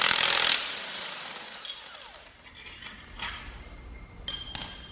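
A ratchet loosens the long cylinder head bolts on a Porsche Cayman engine during disassembly, giving short bursts of metallic clicking and scraping with quieter pauses between, close and fairly soft, with no talking.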